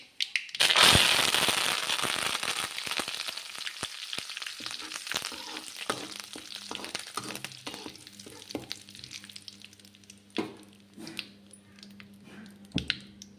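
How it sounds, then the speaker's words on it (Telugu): Curry leaves hit hot oil in a pan with a loud burst of crackling sizzle that slowly calms into softer popping and spitting, with occasional sharp snaps and stirring scrapes. "అవి కొంచెం వేగాక రెండు రెమ్మల కరివేపాకు"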